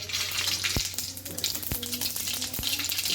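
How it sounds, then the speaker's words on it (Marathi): Mustard and cumin seeds crackling in a few spoonfuls of hot oil in a kadai, a steady close sizzle broken by several sharp pops. "जिरे मोहरी टाकून घेतलेले आहेत. छान तडतडून झालं."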